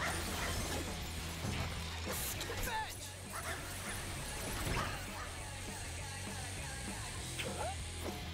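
A dog barks, yips and whimpers inside the Sunset Overdrive video game, mixed with game effects and a dense constant background, with voices talking over it.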